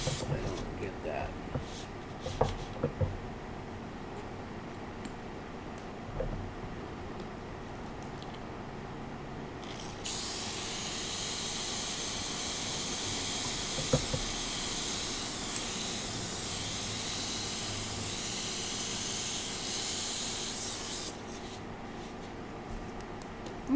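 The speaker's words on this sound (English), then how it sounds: "I'm going to try to airbrush something like that." An airbrush spraying alcohol ink gives off a steady, airy hiss that runs for roughly ten seconds in the middle, with quieter handling noises and a person talking before and after it.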